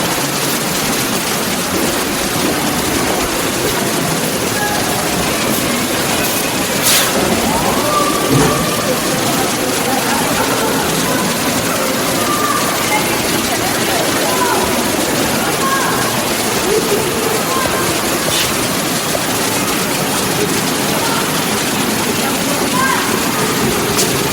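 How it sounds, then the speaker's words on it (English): Steady rushing water from a waterfall in a butterfly park roars without a break, a broad constant wash of sound, with faint voices occasionally surfacing beneath it. "there's a waterfall over there"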